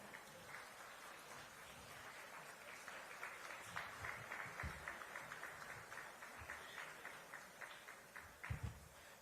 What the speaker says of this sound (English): A bit of applause, ladies and gentlemen.